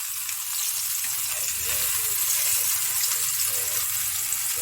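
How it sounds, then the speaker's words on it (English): Food seasoned with dill fries in a pan with a steady, bright sizzle and crackle that runs evenly from start to finish, with no talking. "Just going to let it fry up."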